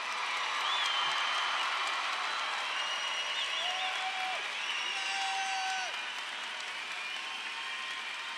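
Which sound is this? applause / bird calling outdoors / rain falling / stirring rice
applause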